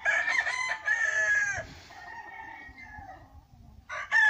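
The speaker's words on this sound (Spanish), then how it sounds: "Aquí tenemos varios gallos de diferentes razas." Several roosters of different breeds crow at a cockfighting farm, with loud overlapping cock-a-doodle-doo calls near the start and again at the end and a quieter call in between.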